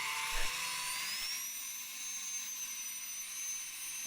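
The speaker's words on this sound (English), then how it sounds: "Thing's fucking whirring. That tube gets into an aerodynamic resonance and it starts to bugle." A homemade rover's vacuum runs with a loud, steady high-pitched whir; its intake tube resonates with a sustained tonal drone throughout, close and alone.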